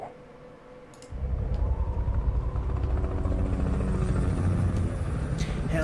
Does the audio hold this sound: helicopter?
yes